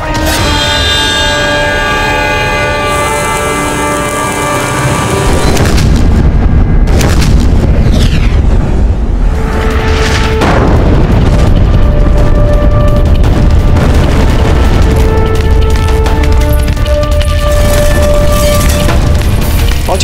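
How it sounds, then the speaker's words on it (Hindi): Heavy booming blasts of Mughal cannons firing iron and stone balls at Chittor fort roll out over a dense, loud background, with several deep reports echoing across the scene. "मुगलों ने पुनः तोप के गोले दागना आरंभ कर दिया है"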